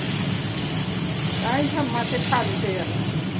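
Fish frying in hot oil in a kadai gives a constant, fairly loud hiss throughout, with a few short chirping sounds rising above it midway.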